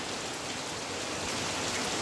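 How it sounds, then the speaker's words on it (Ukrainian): Heavy, constant downpour with a broad hiss of drops striking surfaces, even and unbroken throughout, with no one speaking. "І от зараз пішла злива."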